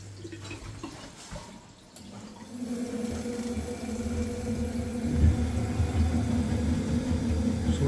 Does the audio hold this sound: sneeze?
no